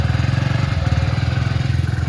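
A cold motorcycle, freshly started after moisture froze inside it, idles up close with a fast, even pulsing throb that stays steady and fairly loud.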